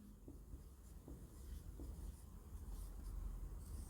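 A pen scratches across paper in quick, quiet strokes, writing continuously with small taps and rubbing sounds at close range.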